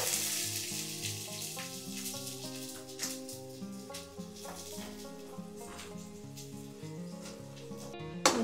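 Chopped onions hit hot oil in a pan for a broccoli curry, giving a steady hiss and sizzle that runs beneath louder background music with repeating chords throughout.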